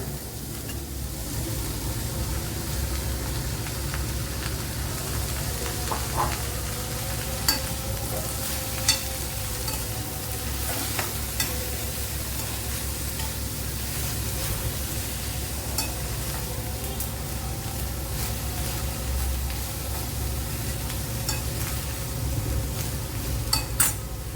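Carrots stir-fried in a pan: a steady sizzle runs throughout, with a spatula scraping and clinking against the metal now and then. No one speaks.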